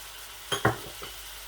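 A spoon stirs mutton kadahi with dried chili, turmeric and spices in a hot pan, giving two sharp scraping clacks and one fainter one over a low, steady sizzle.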